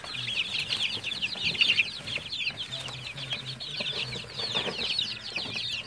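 Gray silkie bantam chickens and their chicks cluck and peep steadily in a coop, a dense chorus of high chirps over softer low clucks with occasional wing flutters, no talking.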